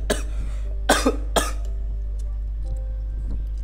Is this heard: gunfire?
no